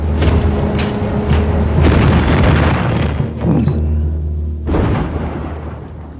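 Naval guns on three cruisers fire in a salvo during a sea battle with the battlecruiser Scharnhorst, several heavy booms rolling out one after another, loud and reverberant over a low rumble.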